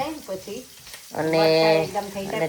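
Chilies and sesame seeds dropped into hot oil for tempering while making chevdo, a Diwali snack, burst into a loud, close sizzle after a short quiet moment with a voice talking.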